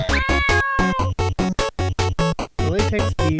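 A latex beast cat in the video game Changed gives a rapid string of loud, close, chopped meows, with several short bursts in quick succession, the last ones rising into a wavering cry.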